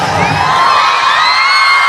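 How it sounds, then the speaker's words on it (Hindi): A large audience at a Hindi poetry recital cheers and claps loudly and continuously, a dense roar of crowd noise with shouts rising above it. "सीपी भाजपा भाई इनकी तालियों को लेकर कैमरा घुमाएं"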